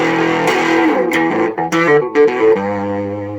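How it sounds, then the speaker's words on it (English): A loud, heavily distorted electric guitar plays sustained, gritty chords and bends through a Crazy Jack amplifier turned up full, thick with harmonic overtones and amp saturation. "getting plenty of distortion in there"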